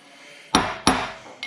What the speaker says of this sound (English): I think we gotta smack it with a hammer.